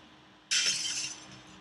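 A single sharp crash of glass shattering in the game Happy Wheels, bright and sudden, followed by a brief tinkling decay of falling shards, close and alone against near silence.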